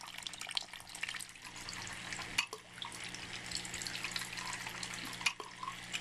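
Water trickling and dripping through a siphon valve into a clear container, a quiet steady splashing with a couple of sharper drips, no talking.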